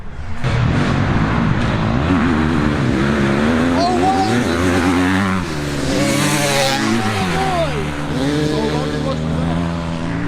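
Honda and Kawasaki race motorcycles battling together at Trojan Raceway, engines droning loud and close with rising and falling revs, under continuous excited commentary.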